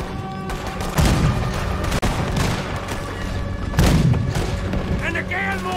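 Deep booming cannon blasts in Red Dead Redemption 2, two heavy thuds about three seconds apart, set against a busy game background with a voice talking.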